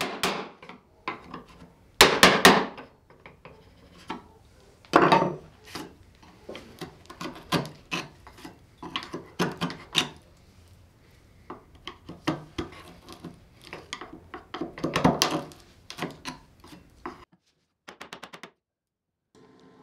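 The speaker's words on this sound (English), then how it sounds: "it's now time to chop out the mortise part." Chisel struck by a mallet chopping a mortise into wood for a hand-made frame saw, sharp irregular knocks in bursts with scraping and prying between blows, close and clear, ending in quiet.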